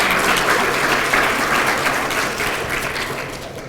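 Steady applause from a university reunion luncheon crowd honoring administration, faculty and staff, a dense wash of clapping that slowly fades toward the end.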